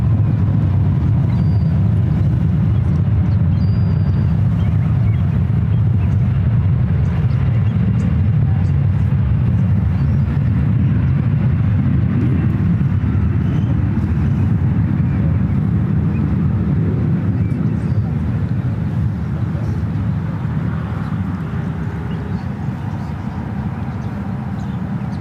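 A seven-year-old Asiana Airlines Airbus A350-900 takes off at San Francisco International Airport. A deep, steady jet roar rumbles from a distance without a break, with a faint wind rush layered over it.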